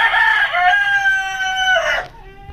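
A native hen, just released back to her brooding nest, gives one loud, drawn-out call close to the microphone. It lasts about two seconds and then cuts off into quiet.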